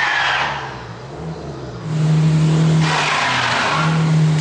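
A car driving on ice with traction control switched off, its engine droning steadily and rising in revs midway, with broadband hiss of tyres slipping and scrabbling on the ice, close and loud throughout.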